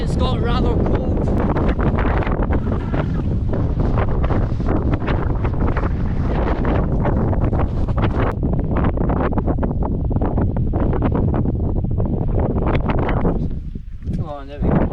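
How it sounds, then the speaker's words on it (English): Strong wind buffets the microphone high on Beinn Sgulaird, a loud continuous roar with gusting surges, easing briefly near the end. "The wind has picked up and the temperature has dropped."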